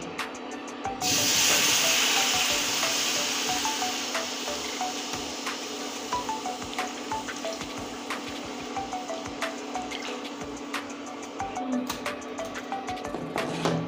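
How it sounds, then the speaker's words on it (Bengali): Milk poured into hot caramel in a pan for sago payesh, bursting into a loud steamy hiss that slowly fades into a steady simmering fizz with faint scraping ticks, close by. "এই দুধটা আমি এখন ঢেলে দিচ্ছি"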